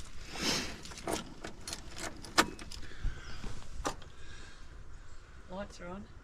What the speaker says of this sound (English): Let's grab some keys.